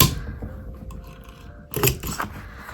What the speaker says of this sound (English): to start my cut, I'm going to go ahead and punch a hole